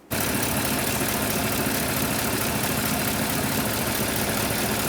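A 2014-2018 Chevrolet Silverado 1500 with a 5.3L V8 runs at a steady, loud idle close by, with a dense continuous engine drone that never drops away within the span.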